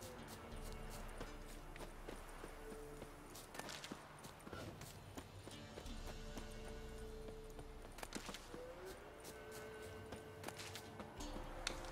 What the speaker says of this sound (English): A horse? What is he doing there?